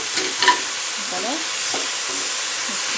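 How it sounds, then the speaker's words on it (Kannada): A spoon stirs and mixes spinach (palak) thokku with greens in a hot pan: a steady soft sizzle with scraping, wet stirring sounds, close and continuous, with no talking. "ಇದನ್ನೆಲ್ಲ ಒಂದು ನೀಟಾಗಿ ಮಿಕ್ಸ್ ಮಾಡ್ಕೊಳ್ಳೋಣ"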